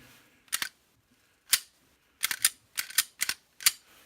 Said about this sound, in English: Next, we're going to open the action.